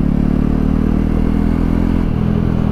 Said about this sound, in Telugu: సో ఎగ్జాస్ట్ నోట్ ఒకసారి వినండి.